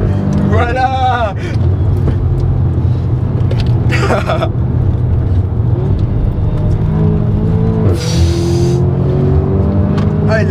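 An Audi S3 8V with a 300 hp engine and a Milltek exhaust drives hard, its engine droning loudly with rising revs and a burst of exhaust noise near the end, while people talk over it.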